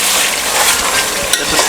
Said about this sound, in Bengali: আমরা একটু নাড়াচাড়া করে দিলাম